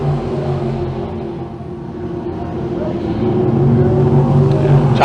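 Crate sprint cars race on a speedway track in a feature event, their engines forming a loud continuous roar that builds slightly toward the end, with a commentator's voice over it.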